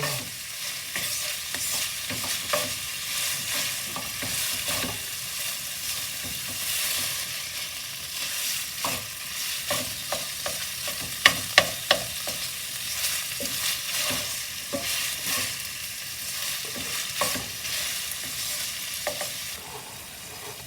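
Taco filling browns in a frying pan with a constant close sizzle, punctuated by frequent scraping and stirring knocks of a utensil against the pan, no voices.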